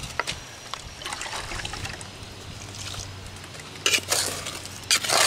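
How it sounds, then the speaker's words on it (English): Wet mud is stirred with water in a bucket for a concrete patch, making close sloshing, scraping and gritty swishing that grows louder and more splashy toward the end. No one talks. "Stir that mud up pretty good."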